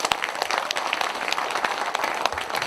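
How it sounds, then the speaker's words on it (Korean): An indoor audience at a lawmaker's 2023 policy report meeting in Korea breaks into steady, dense applause, many hands clapping at once and continuing evenly throughout. "고생하신 우리 신정훈 의원님께 다시 한번 큰 박수 부탁드리겠습니다"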